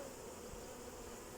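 Honeybees hum in a steady, close, continuous drone over an open brood frame with drones on it, during a hive split.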